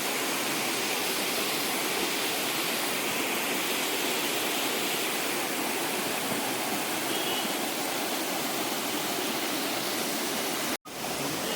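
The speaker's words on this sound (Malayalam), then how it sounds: "ഒരു കാട്ടരുവി ഇങ്ങനെ ഒഴി വരുന്ന കാണാൻ രസമല്ലേ" A forest stream near Vagamon in Idukki rushes past in a dense, unbroken roar, close and loud throughout with no voices.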